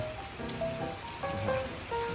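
Rain falling steadily on outdoor surfaces in Boston's Brookline area, a dense continuous patter with no voices.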